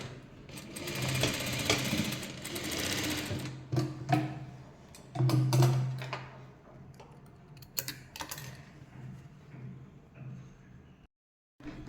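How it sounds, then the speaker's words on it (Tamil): Sewing machine stitching a kurti neckline during a V-neck alteration, running in close, busy bursts that stop and restart several times before a final halt, with no talking. "இப்போ இங்கே ஸ்டார்ட் பண்ணி இந்த இடத்துல வந்து ஃபினிஷ் பண்ணுறோம்"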